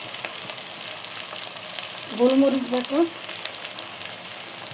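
Ginger and garlic paste with spices such as nutmeg and mace frying in a pan for a beef and potato curry, giving a steady close sizzle throughout, with a brief spoken phrase in the middle.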